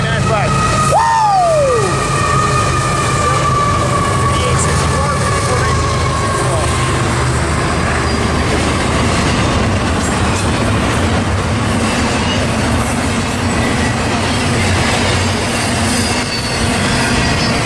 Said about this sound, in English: here comes a westbound stack